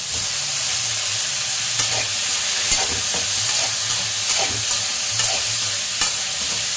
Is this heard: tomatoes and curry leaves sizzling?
yes